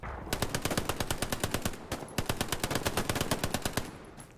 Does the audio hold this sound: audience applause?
no